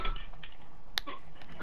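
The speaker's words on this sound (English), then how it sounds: "What's he even typing?" Computer keyboard typing heard during a Fortnite game session: a few light, scattered key clicks over a steady background hiss, with one sharper click near the middle, faint and brief.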